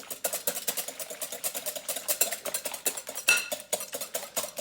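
Eggs whisked briskly in a bowl for a soufflé omelette, a quick rhythmic series of clinking whisk strokes against the side, close and fairly loud with no talk.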